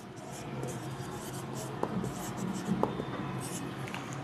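A pen or pencil scratches faintly across paper as a geometry solution is written out by hand, quiet and close, with soft irregular strokes and a couple of small taps.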